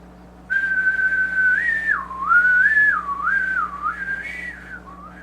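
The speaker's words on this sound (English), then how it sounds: "If we think about the first phrase and we whistle it" A single person whistles the opening phrase of a horn etude, a clear sliding melodic line with held notes and smooth pitch bends, close and alone over a faint steady hum.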